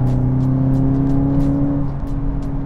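A Volkswagen Golf 8 GTI Clubsport's 300-horsepower four-cylinder engine hums at a steady, raised idle, a low droning tone heard close with no speech.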